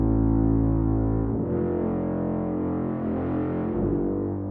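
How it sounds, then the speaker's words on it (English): Bass trombone and tuba double a low bass line in octaves, holding thick, sustained brass tones that shift pitch a couple of times, warm and heavy with no voices. "double your bass line in bass trombone and tuba"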